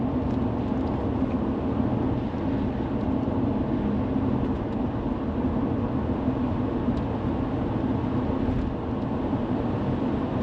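A Lexus LS400 cruising on the road, producing a steady, broadband interior rumble of engine, tyres and road noise that stays even and constant throughout.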